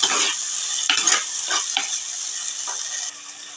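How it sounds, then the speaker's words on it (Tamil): Tomatoes with a little rock salt sautéing in a pan for a tamarind-based saala fish curry, a steady close sizzle broken by several scraping stir strokes, with no talk. "தக்காளி சீக்கிரம் வந்து கொஞ்சமாக கல்லுப்பு சேர்த்துக்கிறேன் சேர்த்து நல்லா வதக்கிக்கலாம்"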